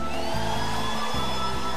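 Hair dryer blowing steadily up close in a home setting, a continuous loud whirring rush with a shifting motor tone that changes pitch twice, alone with no voices.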